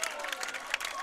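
Crowd at a varsity softball game claps and cheers after a home run, a dense patter of applause from a moderate distance continuing steadily without pause.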